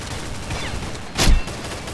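Gunfire in the video game Biohazard: one sharp, loud shot bursts out near the middle, standing clearly above a low, steady game background.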